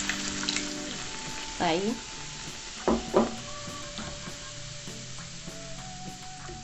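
Sauce for a grilled pizza sizzles steadily in a pan over medium heat, with a few louder stirring scrapes and a short spoken word over the hiss.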